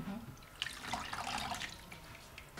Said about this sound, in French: On va rincer notre poisson.